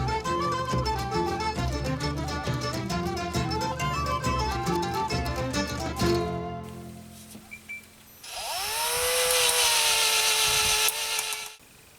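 A power drill bores into a bolt whose thread is shielded by a soft brass sleeve, whining for about three seconds after a stretch of background music, then spinning down and cutting off.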